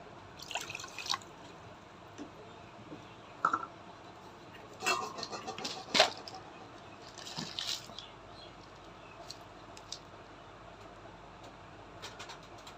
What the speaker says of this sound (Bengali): এক কাপ চিনির ভিতরে দুই কাপ জল দিব সেটা পাতলা করে বানিয়ে নিব